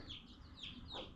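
Chickens and young chicks at a home compound, giving a quick run of three or four close, high, chirpy clucks with short gaps between them.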